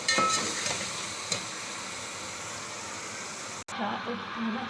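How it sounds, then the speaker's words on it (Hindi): Tomatoes frying and being stirred in a pot, a continuous hiss and sizzle with a few scraping stirs, moderately close, with a short break before the frying resumes. "तो थोड़ा सा टमाटर फ्राई करेंगे,"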